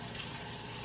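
Tap water runs steadily for hand washing in a home kitchen, a brief even hiss heard close and alone without speech.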